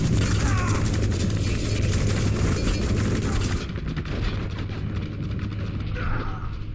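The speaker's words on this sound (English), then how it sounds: "They're dropping grenades." Loud, dense gunfire and blasts of grenade explosions in the video game Spec Ops The Line, a continuous barrage of shots and booms with a low rumble underneath that eases off partway through.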